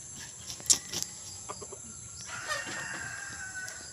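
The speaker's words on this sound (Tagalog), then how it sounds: "napakasipag daw itong tumilaok" A small labuyo rooster, a dark-legged native jungle fowl cross, clucks and calls in short bursts, followed by a faint, drawn-out crow a little distance away, with no talk.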